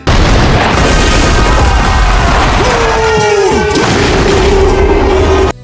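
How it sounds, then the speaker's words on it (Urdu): Cannon fire sound effect for the siege of Constantinople: a loud, sustained roaring rumble with a long descending whistle-like tone partway through, dense and continuous until an abrupt cutoff, no talking. "توپیں چل رہی ہیں"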